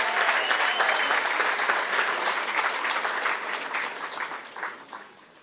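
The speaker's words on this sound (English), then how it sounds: "Let's give our teachers another round of applause." Teachers receive a round of applause at a Gauteng graduation ceremony: dense crowd clapping, strong and even at first, then gradually tapering into scattered claps.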